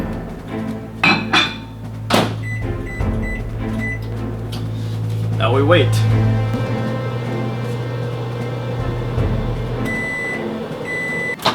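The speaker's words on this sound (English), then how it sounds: "Microwave your chicken breast for about 6 to 7 minutes." Microwave oven running while cooking a chicken breast with a little water, a steady low electrical hum under clanks and bumps, with a brief spoken line over it before a final beep-like tone.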